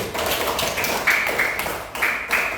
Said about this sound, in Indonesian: beri aplaus dulu kelompok 1